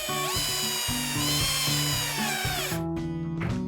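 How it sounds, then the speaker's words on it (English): A power drill drives a screw into a kayak hull, its motor whining steadily and stuttering in rapid pulses as the clutch slips, close and loud, then stopping near the end before a brief final burst. "I fastened it most of the way with the drill"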